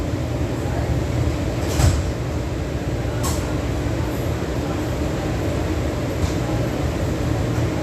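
A Washington D.C. Yellow Line metro train runs with a loud, steady rumble and roar inside the car, with a couple of brief clanks and squeaks along the way.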